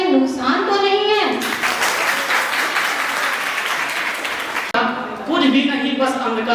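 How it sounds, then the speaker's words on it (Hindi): Sustained audience applause at a university foundation day and teacher's day event, loud and dense for several seconds between stretches of a speaker's amplified voice at the start and end. "पर आपके ताली बजाने में भी तो कोई नुकसान तो नहीं है"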